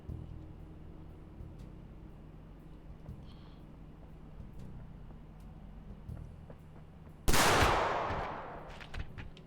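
A gunshot in the video game Blacktrace: one loud, sharp blast with a long decaying tail late in the clip, following a stretch of quiet, low game ambience.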